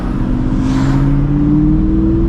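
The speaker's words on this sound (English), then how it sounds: "It's got a nice throaty exhaust." A NewEdge Ford Mustang idles with a deep, throaty side-exit exhaust rumble, rising slightly in pitch as it revs, loud and close.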